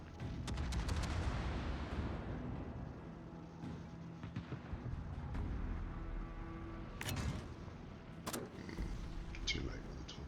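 Warship guns fire in a naval battle in World of Warships on a Tier X Schlieffen, with heavy booming salvos and scattered sharp reports over a constant rumbling battle din, while a voice talks over the action.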